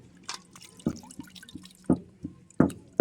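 Water drips and trickles off washed raw chicken set in a draining basket in a kitchen, with scattered close drops and small splashes in an uneven rhythm.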